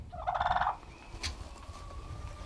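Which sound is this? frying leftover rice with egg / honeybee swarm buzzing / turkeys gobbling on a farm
turkeys gobbling on a farm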